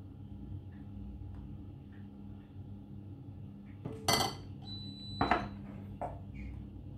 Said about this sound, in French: t'as entendu notre four qui s'est mis à sonner